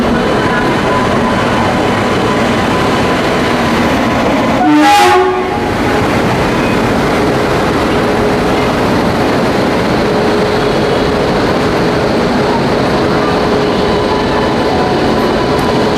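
A Kavach-fitted electric locomotive sounds a loud, short horn blast at an Indian railway station near Bhilai, then the steady rumble and clatter of the train rolling past continues close by without a break.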